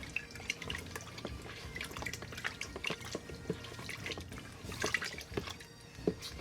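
Switchel of honey, lemon juice and apple cider vinegar stirred in a container, soft liquid sloshing with scattered light clinks and drip-like taps, quiet and close, no voices.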